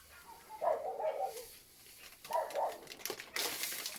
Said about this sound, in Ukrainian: Що це собака по всьому селу?